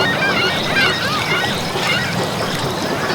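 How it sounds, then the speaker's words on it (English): Ocean water washes against a Maldives shore as a steady, loud rush of surf and wash, with no distinct breaks between waves. "the waves lapped softly on the shore"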